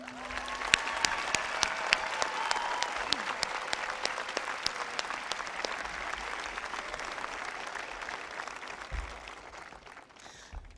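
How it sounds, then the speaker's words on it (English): Sustained audience applause fills a high school graduation ceremony, a dense steady patter of many hands with a few sharp claps standing out, moderately loud and gradually thinning toward the end. "please join me in a round of applause"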